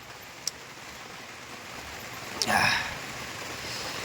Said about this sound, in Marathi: बाहेर पाऊस चालू आहे